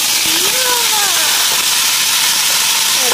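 A loud, steady hiss of water poured into a hot frying pan of gyoza, with a few faint rising squeaky tones at the start.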